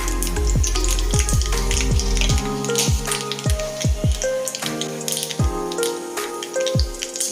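Vigorous sizzling and crackling of curry leaves, asafoetida and turmeric dropped into hot oil for a tempering, with rapid popping bursts and a steady hiss throughout.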